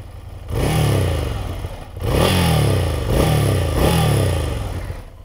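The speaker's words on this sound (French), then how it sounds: "on fait un démarrage moteur" A 2019 Ducati Scrambler Cafe Racer motorcycle engine loud and close, cranking and catching, then settling into a deep, throaty idle that swells in a few revving surges before dropping back.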